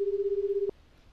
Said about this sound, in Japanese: 母にかけてみる。